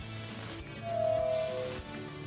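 A quick hiss of hairspray misted lightly onto a textured bun hairstyle, one short burst close to the microphone over a quiet background.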